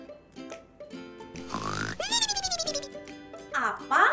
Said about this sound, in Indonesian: Itu suara orang sedang tidur dan ngorok.